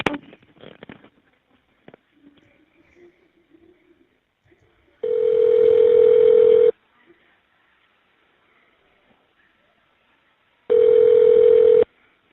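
An inmate phone call from a correctional facility through Evercom connects with two long, steady ringback tones separated by a quiet gap, after a few faint clicks and soft noises.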